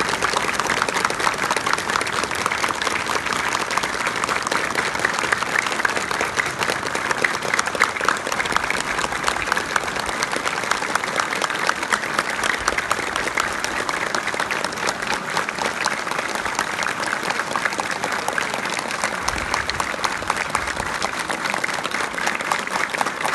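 A crowd clapping hands steadily and continuously as part of an anti-dictatorship clapping campaign in Kalay, a dense, even wash of applause with no pauses, fairly loud throughout.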